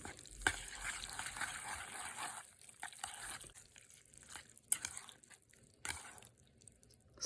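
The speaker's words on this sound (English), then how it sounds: "We're just gonna stir this up." Buldak carbonara noodles stirred with seasoning powder in a multi-cooker, a steady wet scraping and swishing with soft clicks and a few sharper knocks, moderately close and without talk.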